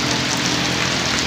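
Steady rain patters densely on a surface during hot sunshine, an even hissing wash with no voices, brief and constant.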